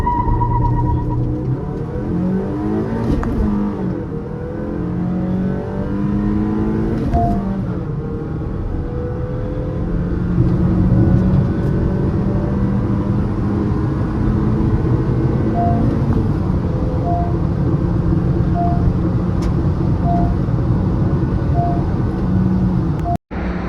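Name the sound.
Honda Elevate and Škoda Kushaq cars accelerating in drag race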